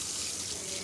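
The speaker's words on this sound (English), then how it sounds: "now we're gonna get you rinsed off," Water running steadily from a tap or hose to rinse off a dog, a continuous broadband hiss and splash at moderate level with no voices.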